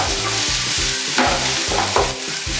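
Crushed ginger, garlic and green chili sizzle loudly in a frying pan for chicken varattiyathu while a spatula scrapes through them in a steady rhythm about twice a second. The sizzle stays close and continuous with no talking.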